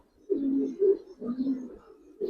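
A large female pigeon with a parrot-style crest coos in low, throaty repeated phrases, close and clear, with short pauses between them.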